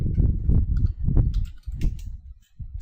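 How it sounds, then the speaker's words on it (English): Quick, uneven bursts of keystrokes on a computer keyboard, close and clear, with short pauses between clusters of clicks while a configuration is typed. "So I'll just type my config."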